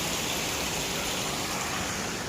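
Steady rushing of a small canal flowing after rain in an Austrian village, a continuous broadband wash with no pauses or voices, close and fairly loud.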